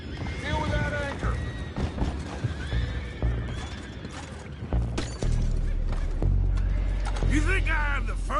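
Horses in the Red Dead Redemption 2 video game whinny repeatedly and clop their hooves, loud and close, with shouting voices and a heavy rumbling bed of game noise underneath.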